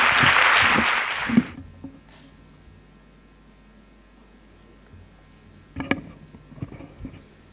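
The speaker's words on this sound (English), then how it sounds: "With a big round of applause to Mr." A conference audience applauds to welcome a speaker, a burst of clapping for about a second and a half that cuts off into quiet room hum, followed by a few faint knocks.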